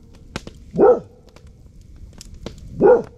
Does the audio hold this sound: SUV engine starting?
no